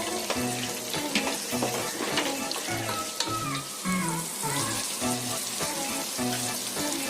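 Eggplant frying in a pan with turmeric and salt, a steady loud sizzle and crackle running throughout with no talking.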